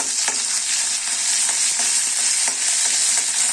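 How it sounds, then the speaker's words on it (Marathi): Garlic, ginger and green chili paste sautéing in a pan for a peas and spinach bhaji: a steady, close oily sizzle with soft stirring taps at intervals, and no voices. "हे छान परतून घेऊया नंतर त्यात लसूण आलं आणि हिरवी मिरची ह्याची पेस्ट करून टाकायची आहे"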